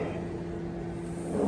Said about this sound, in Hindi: माइक्रोवेव ओवन स्टार्ट होने पे हुआ है